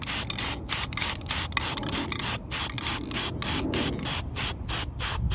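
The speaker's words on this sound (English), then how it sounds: "I'm trying to focus on spraying." Aerosol can spraying hyper dip coating onto the emblems of a 2023 Chevrolet Colorado, a steady continuous hiss broken by short rhythmic gaps as the nozzle is pressed and released, close and fairly loud.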